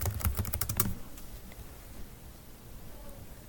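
A quick burst of typing on a computer keyboard while entering a book title into a search box, with close, rapid key clicks for about a second before falling to quiet room noise.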